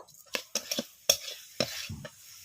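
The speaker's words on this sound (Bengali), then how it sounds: "নারকেল চিনিটা একটু জ্বালিয়ে নারকেলের ছাই মেরে নেব।" Grated coconut and sugar are stirred in a wok over the heat, with a quiet sizzle beneath a series of uneven scraping and clinking strokes of the spoon against the pan.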